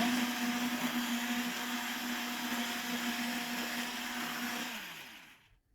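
Revani batter of eggs, sugar and semolina churns under a steady, whirring electric motor hum. The sound stays even and fairly quiet, then winds down and stops just before the end.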